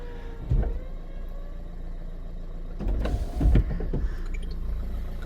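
The electric folding roof of a 2013 Renault Megane 1.5 dCi Cabriolet lowering, a quiet motor whir with a couple of clunks as panels shift and latch, heard close in a calm setting.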